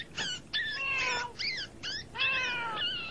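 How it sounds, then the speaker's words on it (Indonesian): A cat meows several times in close succession, clear and fairly near, with short pauses between the drawn-out cries and no talk over them. "Itu kucingku, malaikat."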